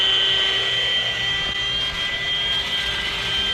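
A Milwaukee power mixer runs on high, stirring a batch of tile mortar, giving a loud, steady motor whine with a constant high tone and grinding churn throughout.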